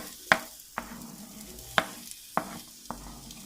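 Two to two and a half onions fry lightly in a pan for village-style rabbit karahi, a steady soft sizzle broken by several sharp scraping stirs of a spatula at irregular intervals, close and alone.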